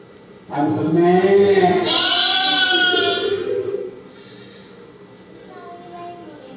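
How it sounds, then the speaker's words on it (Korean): A recording of a sheep plays aloud, giving one long wavering bleat with a strong tonal, voice-like quality, followed by fainter trailing sounds. "자, 이게 양의 울음소리."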